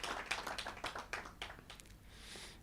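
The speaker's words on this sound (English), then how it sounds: "we can give ourselves a good hand of applause" An audience at an annual general meeting claps briefly, a loose scattering of hand claps heard at a moderate distance that thins out toward the end.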